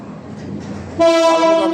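A train rumbles close by, then a loud, sustained multi-tone horn blares over the noise.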